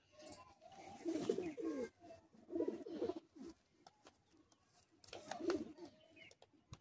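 Madrasi high-flying pigeons in a cage give several bursts of soft, throaty cooing, close but quiet, separated by short pauses.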